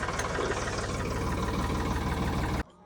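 A loud, steady tractor engine rumble idling close by, cutting off abruptly near the end.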